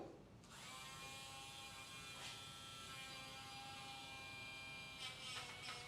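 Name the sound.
Dremel rotary tool grinding a dog's nails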